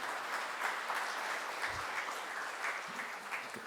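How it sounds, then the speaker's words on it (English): Conference audience clapping to vote on a motion in an arbitration debate, a soft, steady wash of applause heard from a distance with a faint thump partway through. "please clap now"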